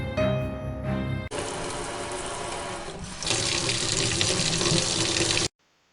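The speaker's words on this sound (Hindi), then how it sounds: "वॉश बेसिन से पानी गिरने की, बर्तन गिरने की आवाजें" Water pours from a tap into a wash basin in a kitchen, a steady splashing rush that briefly cuts out, then returns louder before stopping abruptly, with no voices.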